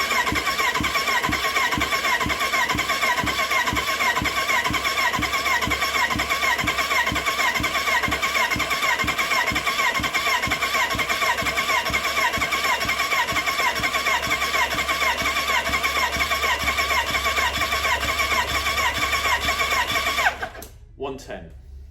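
A 1985 Kawasaki GPZ 750 R engine cranks steadily on the starter for about twenty seconds during a compression test, a loud, even rhythmic churning that cuts off abruptly near the end.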